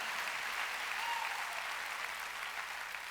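Steady, even clapping from a church congregation during a Korean Wednesday worship service, sustained for a few seconds and fairly quiet, with no voices over it.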